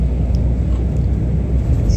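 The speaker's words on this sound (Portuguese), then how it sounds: "Já estou aqui dentro do ônibus" Inside a moving BRT bus in Rio de Janeiro, a heavy continuous low rumble of engine and road noise fills the cabin at a steady level, with no one speaking.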